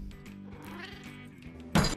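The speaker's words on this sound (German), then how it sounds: "da kommt mal eine echte Katze" A real cat meows nearby, starting with a low, sustained murmur over steady background music and ending in one loud, abrupt meow near the close.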